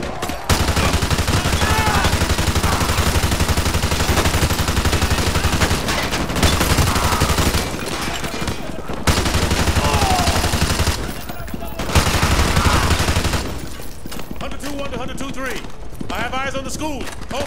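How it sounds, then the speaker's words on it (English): Heavy, sustained gunfire in Call of Duty Modern Warfare 2 Remastered roars almost continuously, loud and dense with overlapping automatic bursts, broken by short lulls where shouted voices and distant shots come through. "We are taking heavy fire from the school!"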